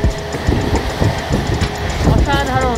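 A Sealdah-Jalpaiguri Road Express train runs steadily on rain-soaked track past tea gardens, a continuous rumbling clatter with rhythmic wheel knocks and a faint rising whine, with a voice talking faintly underneath.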